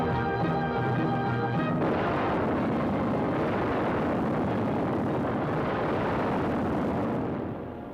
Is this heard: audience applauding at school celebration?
no